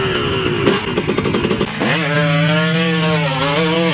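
A two-stroke motorcycle engine, loud and close, runs with a choppy, pulsing beat, then jumps into a steady high-pitched rev that rises and dips, alone with no talk.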